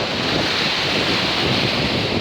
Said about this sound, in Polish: mów głośno, bo nam morze zakłóca